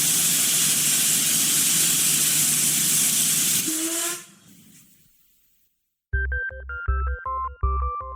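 A little steam train's hiss fills the first four seconds as a loud, broad rush, then fades into near silence before unrelated chiming music begins.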